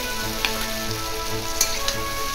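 Pieces of pork frying in a pan, with a steady sizzle and crackle and scattered sharp pops, continuous and close with no voices.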